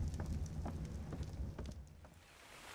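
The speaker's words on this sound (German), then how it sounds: "Jetzt nieselt es hier so runter." Light drizzle falling in Jurassic ARK, a soft, quiet patter of scattered raindrops over low ambient rumble, thinning out toward the end.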